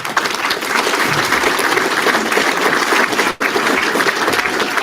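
A graduation ceremony crowd claps in steady, dense applause that fills the room, with a brief dip near the end before the clapping resumes.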